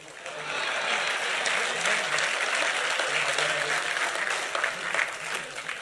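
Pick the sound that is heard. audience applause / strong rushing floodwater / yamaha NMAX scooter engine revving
audience applause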